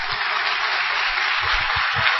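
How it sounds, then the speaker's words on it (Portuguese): Sustained applause from a church congregation, a dense steady wash of clapping that holds at a constant level throughout, with no voices standing out. "Vamos aplaudir o Senhor."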